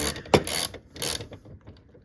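Bolt tightened on a 1993 Cadillac Fleetwood Brougham while replacing the fuel filler door, heard as a few close, bright metallic ratcheting clicks and scrapes in short bursts with quiet pauses between.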